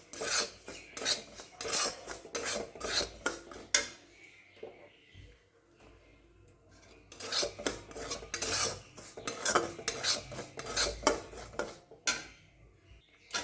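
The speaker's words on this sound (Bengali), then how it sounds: "সুজিটাকে আমি একটু ভালো করে ভেজে নেব।" Semolina dry-roasting in a pan is stirred with a spoon, giving close, rhythmic scraping and rasping strokes that pause briefly midway and then resume steadily.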